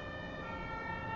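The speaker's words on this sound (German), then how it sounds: "Nachdem ich glaube, das Krankenwagen vorbeigefahren ist" An ambulance siren wails steadily in a German street, its strong tonal bands holding loud and clear with no talk over it.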